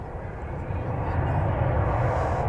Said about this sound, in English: Going out there is flight 3644 to Moline, Illinois